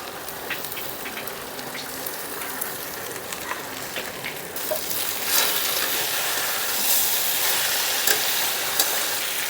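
Ground cumin and coriander paste hits a hot frying pan of puti fish chorchori, a steady loud sizzle that swells and brightens partway through, with faint scraping underneath.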